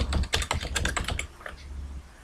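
Rapid clicking keystrokes on a computer keyboard, close and fairly quiet, in a quick burst that thins out toward the end.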